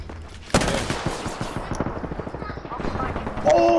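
Rapid automatic gunfire in Apex Legends, a dense burst of close shots in quick succession with scattered distant firing and game effects, while players talk over it.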